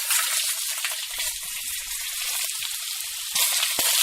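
Garlic cloves frying with browned onions in a pan while cooking paneer, giving a steady close hiss of sizzling oil that swells louder near the end, with no voices.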